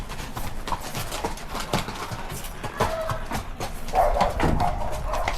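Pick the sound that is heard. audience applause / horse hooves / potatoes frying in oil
horse hooves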